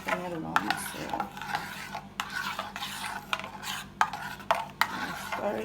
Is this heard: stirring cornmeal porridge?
yes